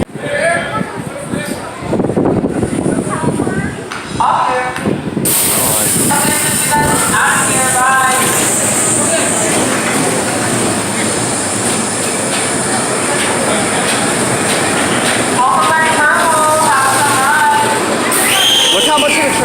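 An empty roller coaster train sits and moves through the station at Kings Island amusement park, with rumbling, clattering and squealing wheels and mechanical noise under ride music, while people talk close by.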